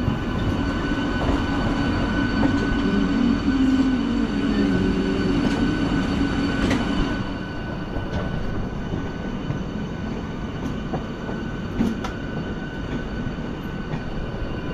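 The Howrah to Mumbai Duronto Express 12262 rolls along the rails with a steady heavy rumble, faint wheel squeal and occasional clicks, easing slightly in loudness halfway through, without speech.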